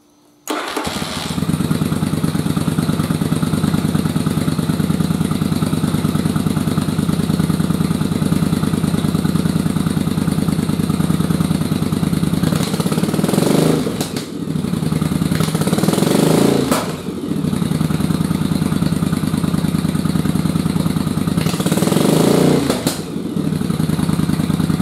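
A motorcycle engine being carburetor-tuned cranks and catches, then runs loud and steady with a rough idle, revving up briefly a few times before settling back.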